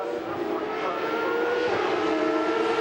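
Formula Renault 3.5 single-seater racing at Zolder in 2005, a steady high engine whine crossing the line over a continuous track ambience, loud and sustained without pause.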